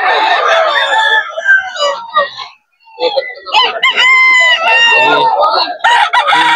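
A three-year-old Gilmore Hatch gamefowl rooster at a pet market in Bocaue crows loudly and close, twice in drawn-out harmonic calls with a short pause between, mixed with clucking and busy background noise.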